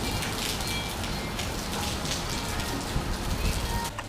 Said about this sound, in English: We came out and it started raining a lot.